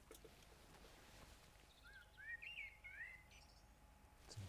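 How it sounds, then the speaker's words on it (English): A blackbird sings from a nearby tree, a short run of fluting whistled phrases in the middle, faint over quiet outdoor ambience near a hot tent. "Can you hear that blackbird singing?"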